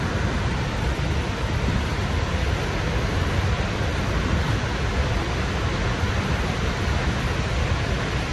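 A massive waterfall roars without a break, a dense and steady wash of rushing water that fills the whole clip with no voices.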